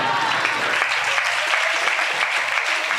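Congregation at a Christian worship service clapping together, a dense steady burst of applause that fills the room for the whole moment at an even loudness.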